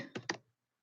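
A few quick keystrokes on a computer keyboard, two or three close, crisp clicks in rapid succession, then silence.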